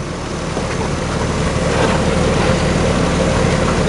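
A 150 hp wood lathe runs while turning wood, a loud, steady roaring rumble with broad whooshing noise that swells slightly as it speeds up; no talking.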